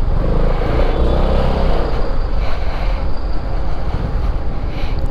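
A Chevrolet Celta car drives close by, giving a loud, steady roadway rumble of engine and tyre noise that carries throughout with no pauses.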